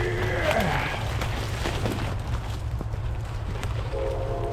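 Train passing near woods, a steady low rumble with a horn sounding early and a faint second horn tone near the end, fairly distant.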